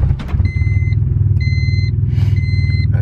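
A turbocharged Honda Civic GSR with a swapped B18C engine on a dyno holds a loud, steady low rumble throughout, with repeated electronic beeps sounding over it.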